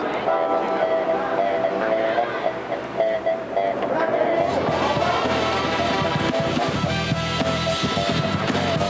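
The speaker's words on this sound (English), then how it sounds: "the trains behind me here are called Redbirds" A New York subway train of old Redbird cars rumbles past during morning rush hour, loud and close, its roar and metallic screech swelling partway through and holding steady.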